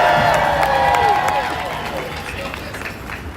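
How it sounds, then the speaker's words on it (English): A rally crowd in Chicago erupts in cheering and applause, a loud wash of claps and shouts that fills the space, then slowly fades over a few seconds while voices carry above it. "Okay, let's give a round of applause to Jason."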